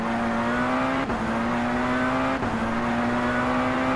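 Tatuus FT-50 single-seater race car engine in the rFactor 2 racing game at Highlands Motorsport Park, a loud, steady high-revving drone with two quick dips at gear changes, constant and close.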